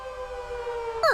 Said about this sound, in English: When we turn on these loud sirens, other cars move aside so we can hurry quickly.